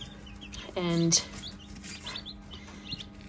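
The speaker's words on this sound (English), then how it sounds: "these chicks are ranging from, I want to say, 3 days to 1 day old probably at this point" Baby chicks between one and three days old peep in a brooder with self-filling waterers and a feeder, giving a brief loud burst of calls over quieter scattered chirps.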